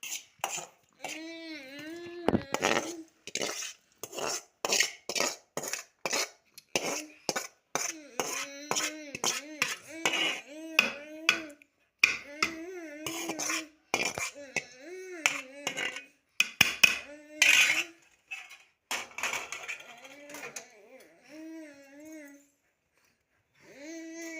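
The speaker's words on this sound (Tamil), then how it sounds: "நம்ம வந்து மாவில் போட்டு மிக்ஸ் பண்ணிக்கலாம்." Paniyaram batter is mixed in a vessel, with quick clinks and scrapes of a utensil against the pot heard close up under steady talking from people nearby.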